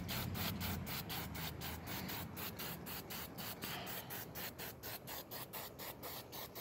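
A first light coat of finish is sprayed onto a grimy old table being restored. The close, continuous hiss is broken by quick regular pulses and runs on with no talking.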